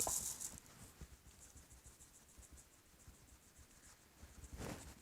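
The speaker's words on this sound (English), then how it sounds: "Can you hear the seed going down into the balloon? It sort of sounds like rain." Birdseed pours through a funnel into a balloon, making a soft, continuous pattering hiss like light rain that runs the whole time, quiet and close, with a brief rustle at the start and near the end.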